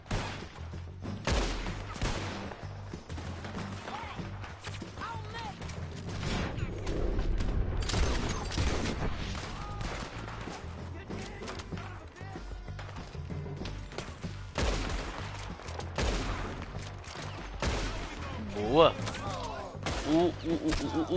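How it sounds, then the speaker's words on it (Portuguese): Gunfire in Red Dead Redemption 2 during a shootout, repeated shots and booms scattered through a long stretch of game noise, some near and sharp, others distant, with players talking over it. "Caramba, estão atirando bonito aqui"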